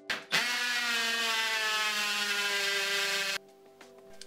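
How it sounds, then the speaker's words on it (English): A hammer drill drives screws through the legs of a basement utility sink into the floor, a steady whining motor run that stops abruptly and is followed by a few clicks and knocks. "So I'm using a hammer drill and then also just direct depth cons with the low torque settings so I don't strip them out"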